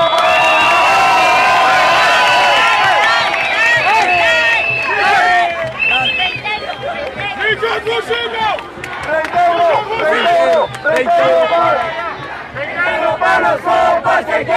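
A student protest crowd from Medellín's public universities roars with loud, sustained cheers, whoops and shouts, a dense wall of many voices that stays close and intense throughout.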